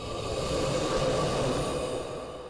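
A subway train runs along its rails with a steady, loud rumbling roar and a faint metallic hiss, continuous throughout, easing slightly near the end.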